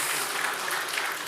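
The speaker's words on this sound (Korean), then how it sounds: "감사의 박수 한번 드릴까요" A church congregation claps in thanks for a deaconess's birthday, a short dense burst of steady applause from many hands in an indoor hall.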